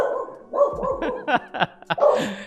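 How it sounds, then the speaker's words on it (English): Several dogs bark and yip in a noisy house full of pets, the sharp barks landing in quick uneven bursts over a steady background murmur. "I have 4 dogs and 3 cats, and so it's a noisy house all the time."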